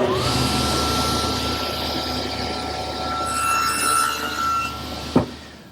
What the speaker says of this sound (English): I'll make the shoulder cuts first